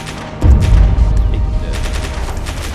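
Gunshots in the DayZ Standalone survival game, a sudden loud burst of rapid, overlapping shots that starts abruptly and trails off into rumbling echoes.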